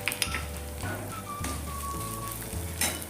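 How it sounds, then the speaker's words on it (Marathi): White sesame seeds, ginger and garlic roasting in hot oil give a steady close sizzle and crackle with a few soft stirring scrapes, and no one speaks. "सफेद तीळ थोडे भाजून घ्यायचे आहेत, करपवून द्यायचे नाहीत"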